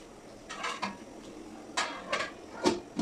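A lid set onto a pot of cooking pulao gives several light metallic clinks and taps close by, spread across a few seconds with quiet room noise between them.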